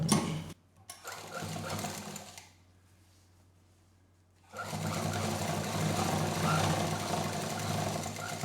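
Sewing machine stitching printed fabric pieces together for a patchwork tote bag, a loud, steady, fast mechanical whirr that stops for about two seconds and then resumes, close by, without any speech.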